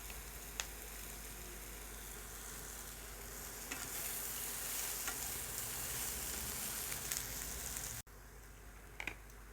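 Mixed winter vegetables sauté in a pan with a continuous close sizzle and stirring, as cabbage and spring onion are added, with a brief break near the end before the frying resumes.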